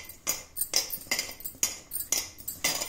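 A spoon scrapes and clinks rhythmically in a bowl as litti dough is mixed with ajwain, about six evenly spaced strokes, close and fairly soft.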